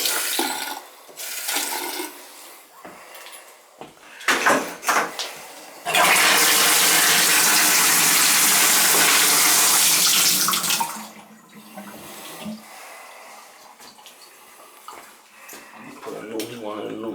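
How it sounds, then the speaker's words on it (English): Water gushes loudly and steadily from a tub spout of a rebuilt Symmons tub-shower valve for several seconds, with knocks and rustling before and after. "gonna turn the water on"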